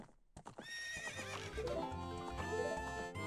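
A horse whinnies loudly in The Legend of Zelda: Ocarina of Time, a bright, wavering neigh heard up close alongside clip-clop hoofbeats, with no talking.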